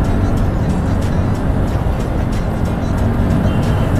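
A TVS Ntorq 125 scooter and an NS 125 motorcycle drag race, their engines a loud, dense, continuous roar close by with no clear gear changes.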